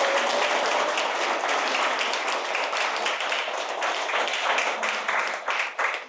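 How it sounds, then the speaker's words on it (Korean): A seated audience at a meditation talk applauds the chairman with dense, sustained clapping that fills the room, loud and steady before tapering off at the end. "김진기 회장님께 큰 박수 부탁드리겠습니다"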